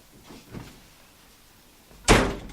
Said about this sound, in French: Mais arrêtez de claquer cette porte, là!